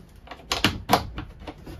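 A travel latch on a 2019 Forest River EPRO 19FD RV is turned and locked, producing a handful of sharp plastic-and-metal clicks and knocks within under two seconds, close up with no voices.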